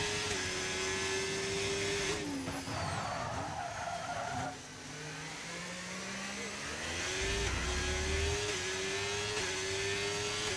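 A McLaren race car engine in a racing video game set at Spa, Belgium drones with a steady high whine that dips and climbs through gear changes, with tyre skids and other cars passing, all fairly loud and continuous.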